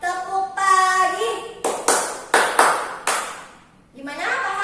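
Students in a classroom ice-breaking activity clap in a short rhythmic pattern, a few sharp claps in sequence, between stretches of a woman's speech.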